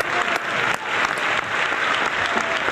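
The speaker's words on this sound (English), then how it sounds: "One applause for you." An audience at the ITB Berlin keynote gives loud, dense applause, many hands clapping continuously and close, with no talk over it.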